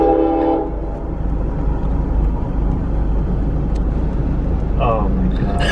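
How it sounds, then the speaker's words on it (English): A freight train rumbles past close by, a steady loud roar of rolling cars with a brief horn-like tone near the end. "That is a freight train"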